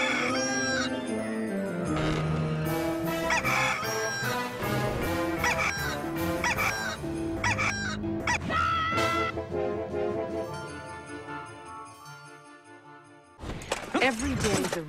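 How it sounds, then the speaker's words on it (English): A rooster crows loudly several times in an episode of the TV series Xena, its shrill drawn-out calls layered over music and voices, ending with a sudden burst of noise. "Every day the rooster crows"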